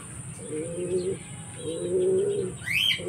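Racing pigeon cooing in three steady, rounded phrases at close range, with soft background noise and a brief higher chirp near the end; no one speaks.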